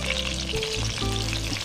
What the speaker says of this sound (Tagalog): magpiprito muna tayo ng talong.